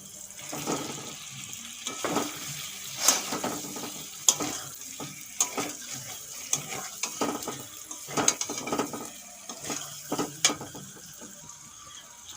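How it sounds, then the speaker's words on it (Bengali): Fried potatoes and eggs fry softly with spices in a pan while a utensil scrapes and clinks against the metal in irregular strokes, with no talking. "আলু ডিম মশলার সঙ্গে দু মিনিটের মতো ভেজে নিয়েছি"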